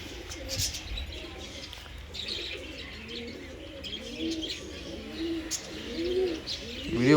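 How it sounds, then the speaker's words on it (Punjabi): Soft, throaty pigeon coos repeat in a low rolling rhythm nearby, with faint chirps and light background noise. "ਕਬੂਤਰੀ ਘਰੇ ਆ ਗਈ"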